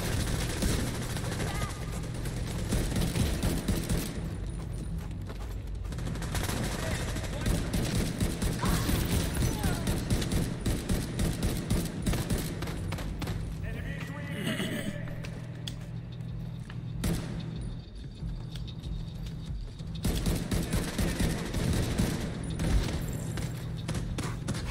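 Video game gunfire, including shotgun blasts, crackles in rapid bursts and scattered thuds at moderate loudness, while voices talk over the shooting at times.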